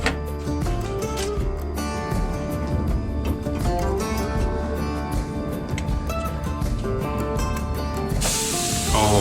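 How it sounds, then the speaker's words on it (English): Big ribeye steak sizzling on a Napoleon Rogue 365 gas grill, a steady loud hiss and crackle of fat that continues without a break, with a brief burst of stronger spray near the end. "Now we're going to get the meat on the grill."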